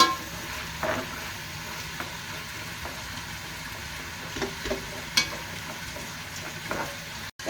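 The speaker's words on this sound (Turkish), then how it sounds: "Biberlerle beraber kavuruyoruz kıymayı." Minced meat and peppers sizzle steadily in a hot pan, with occasional scraping stirs and a faint bump or two.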